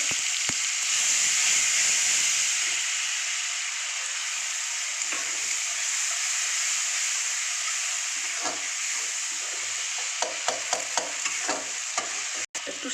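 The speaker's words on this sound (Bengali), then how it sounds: "এবার আমি এই টমেটোটাকে দিয়ে" Tomatoes frying in a pan of oil with turmeric and cumin seeds for a mixed-vegetable mung dal, giving a steady close sizzle and hiss with scattered stirring scrapes and clinks toward the end.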